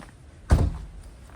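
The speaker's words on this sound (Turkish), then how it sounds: "ben şu kapıyı kapatayım" A door in a boutique hotel in Bergama swings shut with a single solid thunk, close and brief, against a quiet room.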